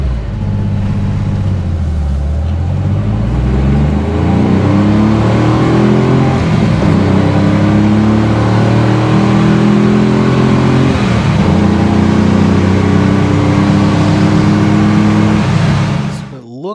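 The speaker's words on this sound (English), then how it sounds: "Let's take it on a wide open throttle rip and see what it does." A Corvair engine with a custom fuel injection system revs hard at full throttle, pitch climbing steadily then dropping briefly between gears before rising again, loud and close for the whole stretch.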